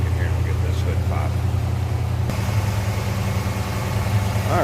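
A 1957 Chevrolet Bel Air 2-door hardtop engine with chrome valve covers and air cleaner idles smoothly and steadily with the hood open, a continuous low rumble heard up close with faint background noises over it.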